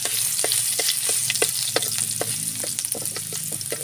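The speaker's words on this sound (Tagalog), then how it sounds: "Gigisa muna natin yung luya." Ginger sautéing in a hot pan for a coconut-milk snail dish with taro, a steady close sizzle and crackle with light stirring scrapes throughout, no voices.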